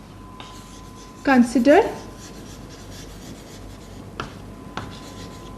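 A pen or marker writes out a quadratic equation on a surface. Scratchy strokes come in a short burst after a brief spoken word, and a couple of faint taps follow over quiet room tone.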